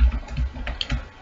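A few quick, light keystrokes as C code is typed on a computer keyboard, close and soft plastic clicking in a short, uneven run, with no talking.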